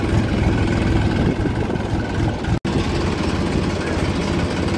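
A Massey tractor engine runs steadily and loud, a constant low diesel drone that continues throughout with only a brief dropout near the middle, no voices.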